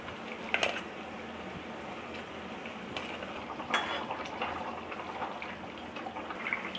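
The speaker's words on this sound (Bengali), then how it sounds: "ঝোলটা ফুটে উঠেছে" Climbing perch fish curry gravy simmers in a pan over a gas flame, giving a soft, close bubbling and irregular light popping with a few sharper ticks.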